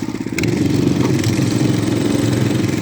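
A walk-behind tractor engine idles in neutral in the snow, a steady close chugging putter with rapid even pulses and a faint clatter, loud and unbroken.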